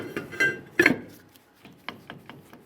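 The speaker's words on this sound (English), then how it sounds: "Let's install the brake drum." Metallic clunks and light scraping knocks come as a brake drum is fitted onto a Dodge Ram 1500 axle hub, a few close irregular impacts followed by softer taps.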